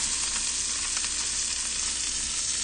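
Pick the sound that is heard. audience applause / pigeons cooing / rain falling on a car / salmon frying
salmon frying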